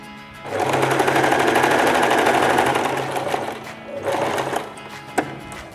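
A sewing machine stitches a tassel trim edge onto fabric for a decorative cushion, running in a steady loud whir for several seconds, easing off briefly, then resuming before a short click near the end.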